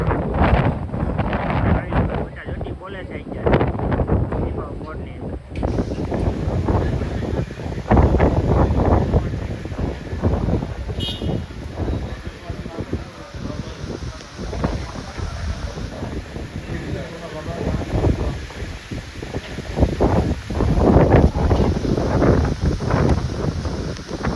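Strong, gusty wind ahead of a storm roars and buffets the microphone continuously, with brief bursts of muffled talking in between.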